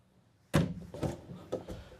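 Pull-out drawers in a wooden RV cabinet slide and knock shut, giving a sharp first thunk followed by several softer wooden bumps and a brief rolling slide, close by.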